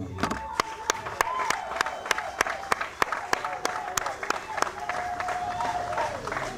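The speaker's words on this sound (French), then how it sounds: "On peut quand même acclamer très fort." An audience applauds at an electoral commission press briefing in Kinshasa, with sharp claps in a steady, almost rhythmic beat that runs for several seconds against a murmuring room.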